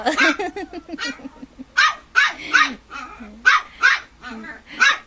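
A dog barks repeatedly nearby, sharp yips and barks in an uneven rhythm with whimpery whines between them.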